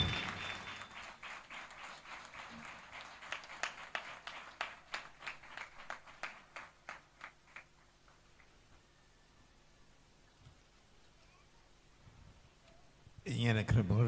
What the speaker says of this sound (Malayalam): ഈ വേദിയിലേക്ക് നിറഞ്ഞ കയ്യടിയോടെ സ്വാഗതം ചെയ്യുന്നു.